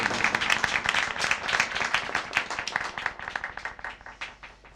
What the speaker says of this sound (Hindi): भरपूर तालियों से इस्तकबाल